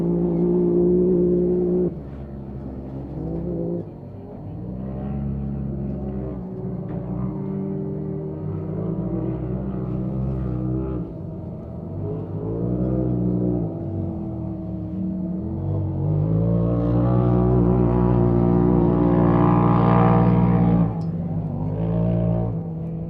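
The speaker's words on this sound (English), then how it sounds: "Definitely got a deep throaty sound, those Polarises" Polaris side-by-side racing engines drone with a deep, throaty roar that rises and falls as they accelerate, steady and loud.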